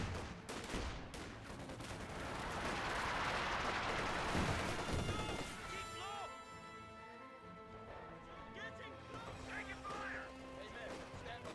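Gunfire and explosions from a Company of Heroes 2 battle, a dense barrage of shots and blasts with crashing impacts, loud in the first half and then sparser, with a voice casting the match over it.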